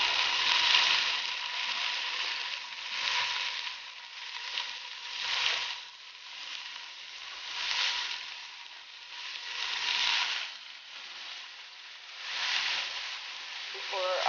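Sausage and ham fry in a pan with a steady, moderately quiet sizzle that swells and fades in slow waves, and no talking.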